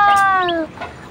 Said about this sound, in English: Cutie, cutie, small chicken.